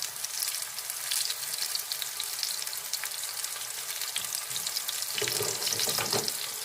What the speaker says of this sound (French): Et maintenant, je vais mettre mes champignons dedans. Voilà. Et en fait, je vais les faire saisir très fort.